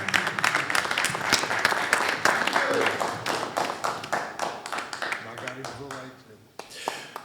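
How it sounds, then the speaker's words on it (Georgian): An audience at a combat sports press conference applauds in a steady round of clapping that thins and fades near the end, with a voice talking over it. "კეთილი, გავაცილოთ აპლოდისმენტებით"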